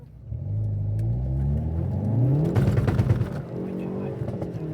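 A Hyundai Veloster N hatchback launches hard on its original soft engine mounts, its engine note revving and rising over a steady low rumble, with a clunking surge midway as the engine shifts, heard close from inside the car.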